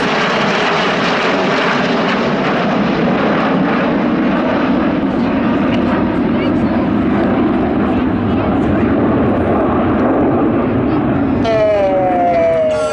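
Red Arrows jet aircraft of the Royal Air Force roar through a rollbacks display manoeuvre at the Midlands Air Festival, a loud continuous engine rush with a commentator talking over it throughout.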